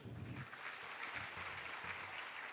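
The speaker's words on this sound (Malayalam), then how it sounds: "ആ അധ്യാപകർക്ക് നിങ്ങളൊരു കൈയടി കൊടുക്കുക." An audience claps for teachers at a hall event, producing a faint, distant, sustained patter of applause with no pauses.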